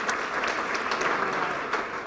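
An audience applauds graduates at a drug treatment court graduation ceremony in Richmond, a steady dense clapping that holds evenly throughout, moderately close with no speech over it.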